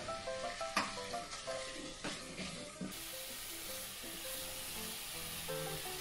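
Beef shank curry ingredients sautéing in a pan, with a steady sizzle and frying hiss, occasional stirring scrapes and clinks early on, and the hiss getting louder and more continuous in the second half.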